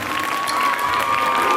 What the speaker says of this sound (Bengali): সবাই মিলে দিদিমণি মাস্টার মশাইদের জন্য একবার হাততালি